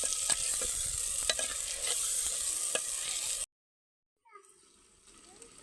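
Mutton curry stirred in a pot, a steady close scraping and bubbling texture with sharp clicks for about three and a half seconds, then a short silence before a fainter sizzle resumes.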